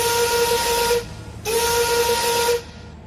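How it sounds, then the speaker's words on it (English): A steam whistle blows two long, loud, steady blasts with a short gap between them, its piercing tone backed by a rushing hiss. "Suddenly, an old steam whistle sounded out."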